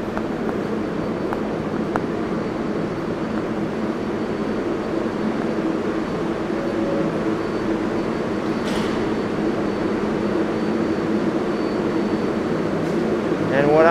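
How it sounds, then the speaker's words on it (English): A New York City subway 7 train at 42nd Street Bryant Park station, a steady low rumble filling the platform throughout with brief squeals and clanks, close and fairly loud. "Here's the 7 train at 42nd Street Bryant Park."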